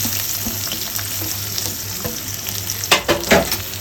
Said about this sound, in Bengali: তেল গরম হয়ে গেছে পেঁয়াজ